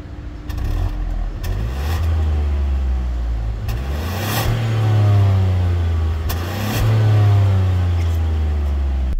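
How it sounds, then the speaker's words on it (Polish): A Mitsubishi Colt's 1.0-litre turbocharged three-cylinder engine growls nearby, rising and falling through a few rev swells with a steady low drone and a characteristic uneven thrum. "Brzmi charakterystycznie dla 3 cylindrów, co ja osobiście lubię, takie przyjemne dla ucha warczenie."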